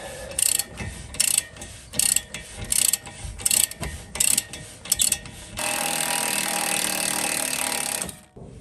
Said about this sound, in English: It's time to unscrew those two bolts securing the brake caliper.